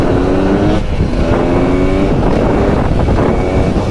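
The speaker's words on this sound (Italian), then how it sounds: "Proviamo a fare anche qualche impennata" Beta 300 two-stroke dirt bike engine revving hard during wheelie attempts, a loud, steady, buzzing drone with rising and falling pitch and some wind rush against the microphone.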